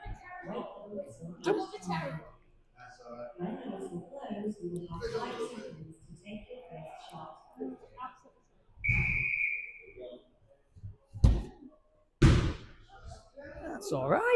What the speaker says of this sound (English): Just wait for the whistle.